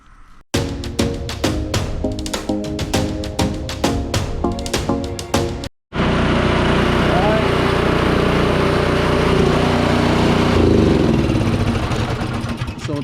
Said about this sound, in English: Just start up the engine a little bit, loosen up the oil before you loosen up the drain plug.